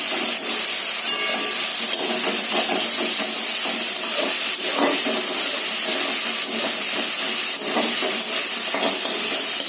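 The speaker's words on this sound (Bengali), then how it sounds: "এবার ভালো করে এটা ভাজা ভাজা করতে হবে।" Water spinach with lentil dumplings being stir-fried in a hot pan, giving a dense, steady hiss and sizzle broken by soft scraping stirs, close and unbroken.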